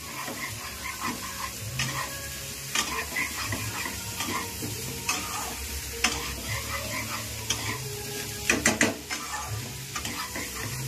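Potatoes and slightly overripe papaya being stir-fried in spice paste for a Bengali mutton curry, a constant sizzle with repeated scraping and clinking of a spoon against the pan, close and clear with no talk.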